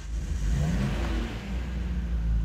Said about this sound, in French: On débraye, on tourne le moteur.